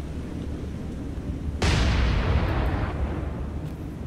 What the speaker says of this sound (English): we gotta get those star shell rounds